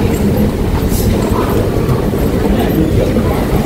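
Dense, loud rumble and roar from inside a moving subway train on the red line near Changlian station, a continuous low-heavy wash of wheel and car noise with no clear pauses.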